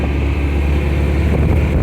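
Steady, loud wind rush over the microphone with a low engine hum from a 1946 Willys Jeep driving in third gear at speed, continuous for the whole stretch with no talk.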